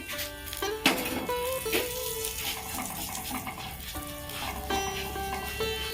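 Asafoetida and nigella seeds fry in ghee in a pan for a pea-stuffed radhaballabhi, a soft sizzle under ringing metal clinks and scraping of a spoon against the vessel.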